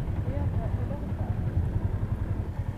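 A motorcycle-taxi engine idles near a parking area in Taguig, a low, steady, uneven rumble with faint muffled voices.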